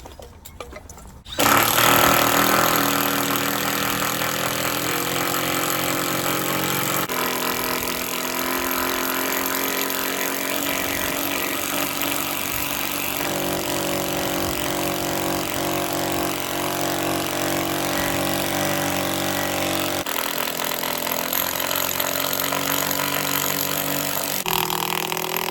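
An impact driver sinks bolts into a ledger board during a deck build, a loud, continuous mechanical hammering drone that kicks in abruptly after a quiet start and runs nearly unbroken, heard close and alone.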